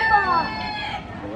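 A brief, high crowing call from a rooster-like bird, fading over about a second against a quiet farmyard background.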